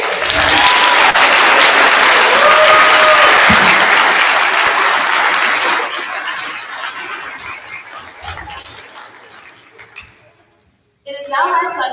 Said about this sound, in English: We have one more round of applause for those amazing singers.